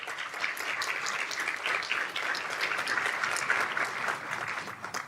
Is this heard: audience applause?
yes